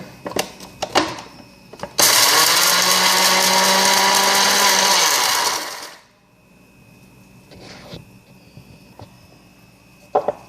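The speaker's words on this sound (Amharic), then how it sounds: "ይሄንን እንፈጫለሁ አሁን እዚህ ጋር ጨመርኩትን" A blender grinds spices in a loud, continuous whirring roar lasting several seconds before it cuts off, framed by scattered clicks and knocks of handling before and after.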